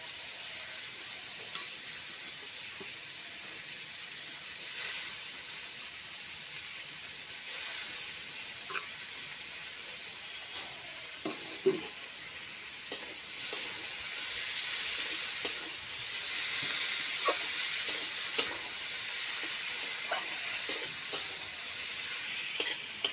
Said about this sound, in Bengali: শাকগুলো দিয়ে আমি নেড়ে দিয়েছি।